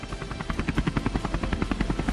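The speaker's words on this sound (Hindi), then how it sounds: "एकलव्य फॉर्मेशन में Mi-35 और अपाचे हेलीकॉप्टर ने फ्लाई पास्ट किया।" Army Apache and Mi-35 helicopters fly past in formation, their rotors beating in a steady, loud, rhythmic thump with a broad engine roar behind it.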